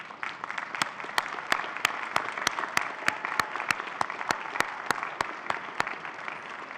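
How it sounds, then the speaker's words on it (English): Graduates and guests at a university autumn convocation give a warm round of applause to family and friends; dense, sustained clapping with a few sharp, close claps standing out through the whole stretch. "give them a warm round of applause for supporting your journey"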